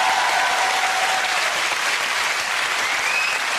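Studio audience on a British family game show applauds steadily, a dense, even wash of clapping that holds at full strength throughout without any talk over it.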